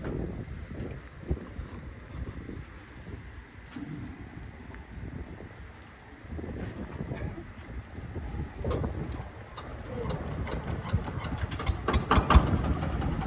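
A Kubota RD110 D122T diesel engine drives a corn sheller machine, a low, rough continuous running rumble with irregular knocking, heard outdoors with wind noise over it.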